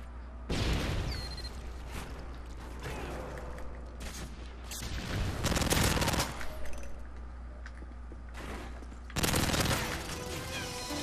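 In Modern Warfare 3, a PP90 submachine gun fires in bursts of rapid automatic fire. Several dense volleys are broken by brief lulls over a low game hum, with other gunfire and mechanical clatter in the mix.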